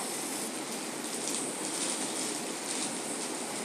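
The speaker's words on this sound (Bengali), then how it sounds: "আলুগুলো দিয়ে আমি লবণ হলুদ দিয়ে ভালো করে ভেজে নেব আলুগুলো" Potato pieces fry in oil with salt and turmeric after a black cumin tempering, giving a steady, even sizzling hiss throughout with no voices.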